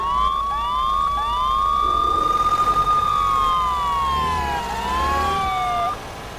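A video game ambulance siren wails, sweeping up and down in repeated long rising and falling tones, loud and close, with a low engine-like hum underneath.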